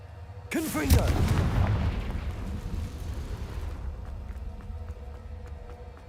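Confringo fire spell blast in Hogwarts Legacy, a sudden loud explosive burst that swells into a rumbling roar and then tails off over a few seconds.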